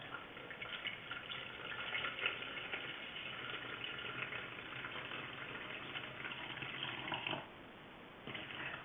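Filtered rainwater pours steadily into a container on a scale for soap making, a continuous close splashing stream that briefly drops off near the end before resuming, with no talking.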